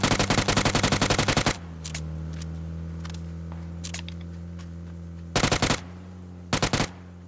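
Rapid bursts of automatic gunfire in the battle game PUBG, a loud volley at the start and two shorter bursts later, with quieter single shots and a steady engine-like drone between them.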